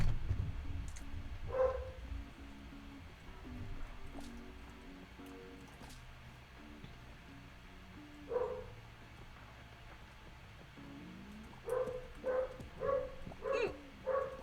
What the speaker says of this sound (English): He's barking out the window.